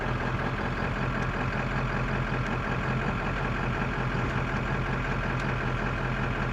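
An emergency vehicle's engine idling steadily while reversing on a driving-training range, a continuous low rumble with no change in rhythm, close and even throughout.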